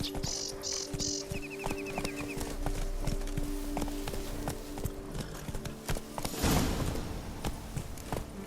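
A horse's hooves clip-clop at a steady walking pace in The Witcher 3, a regular close rhythm of hoof strikes with a short snort or whinny near the start and a louder thump later.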